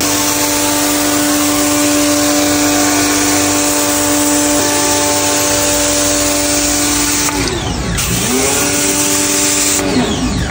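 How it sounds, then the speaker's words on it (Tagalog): Pressure washer blasting caked mud off a house, a loud, steady high-pitched motor whine with hissing spray that holds constant, then briefly dips and recovers near the end; no talking. "pinagbabugahan na lang namin ng pressure washer para matanggal yung mga matitinding putik"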